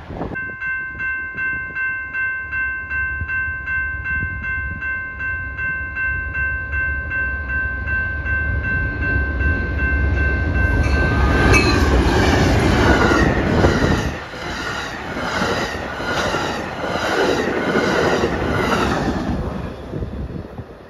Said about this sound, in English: finally, we see our Outbound California Zephyr